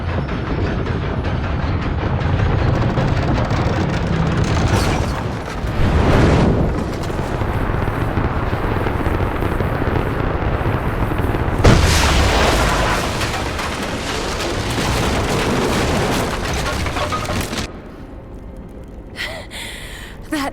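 A weapon fires in Rise of the Tomb Raider, setting off a deep, rumbling explosion amid a loud roaring game soundscape, with heavy booms swelling around the middle before the din drops away near the end.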